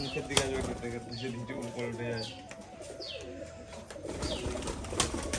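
Pigeons flap their wings in short bursts amid soft cooing and chirps, with a voice talking in the background.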